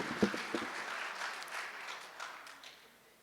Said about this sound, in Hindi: ताली एक बार मिलके बजा लो तो थोड़ी ज्यादा ढंग से होगी है